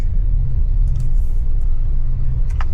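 A GMC Sierra HD pickup truck, running poorly after a check engine light fault, rumbles steadily while driving. The low engine and road drone sounds close, as if from inside the cab, constant throughout with no talking.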